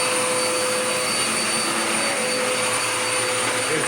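A Dirt Devil Power Max vacuum cleaner runs steadily and loudly throughout, a continuous broadband motor roar with a high whine and no voices.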